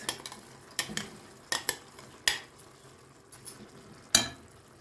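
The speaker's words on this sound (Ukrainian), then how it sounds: "Тепер сюди додаю рис." Rice goes into a pan of frying zucchini and is stirred, giving a soft sizzle under a series of irregular sharp scrapes and clinks of a utensil against the pan.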